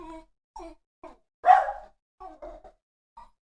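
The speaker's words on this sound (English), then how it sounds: "Got my idiot dog in the background." A dog barks indoors in the background, giving a string of short distinct barks with gaps between them and one louder, stronger bark in the middle. No one speaks.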